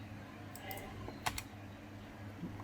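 Keys on a wireless computer keyboard are pressed in a few quick, soft clicks, with a brief cluster of sharper taps, all faint against a steady low electrical hum.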